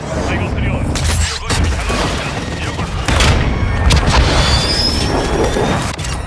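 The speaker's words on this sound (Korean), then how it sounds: "공습 요청한다." Airstrike explosions in the video game Call of Duty Modern Warfare multiplayer: heavy, continuous booming blasts and crackling gunfire-like bursts, loud and dense throughout, swelling further toward the middle.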